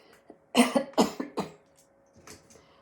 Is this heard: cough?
yes